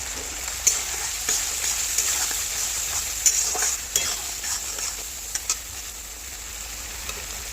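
Prawns fry in a pan seasoned with salt, turmeric and Kashmiri chili powder, giving a soft continuous sizzle broken by frequent stirring clinks and scrapes, with no talking.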